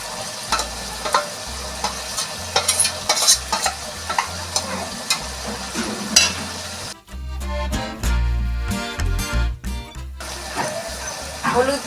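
Ginger and garlic fry in a pan while a spatula stirs them, making a loud sizzle broken by repeated scraping strokes that come and go across the clip.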